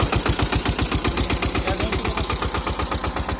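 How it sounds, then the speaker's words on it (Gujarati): A Massey Ferguson 5118 tractor engine runs steadily at low revs, its chugging pulses fast and even throughout, fairly close and loud with no voices. "જોઈ શકો છો કે ટ્રેક્ટર બહુ આરપીએમ તો લેતું નથી"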